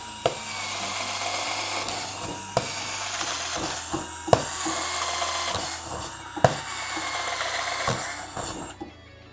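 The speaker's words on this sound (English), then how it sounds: "We're going to see how fast each one of these drills can put 5 holes into a piece of 3/4 inch OSB." A 12V cordless drill bores holes into a 3/4 inch OSB board: a continuous grinding whir, broken by sharp knocks as each of about five holes starts and breaks through, then ends abruptly.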